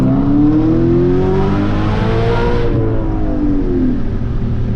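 An Audi RS5 engine revs loudly and close by, its pitch climbing and falling in a sustained sweep before settling, with no talk over it.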